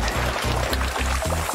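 Pasta water poured through a strainer, a steady close splashing stream broken into a few short bursts with brief pauses between them.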